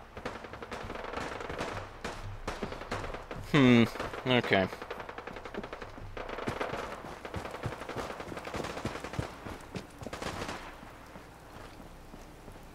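Rapid automatic gunfire in Fallout 4, dense crackling bursts running through most of the clip with a louder volley near the middle, mixed under game sounds and a man's brief spoken word.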